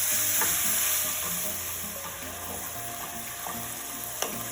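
Ground meat browns in a hot pan for chili, sizzling steadily while a spoon stirs and scrapes through it in repeated strokes, with a sharp clink near the end.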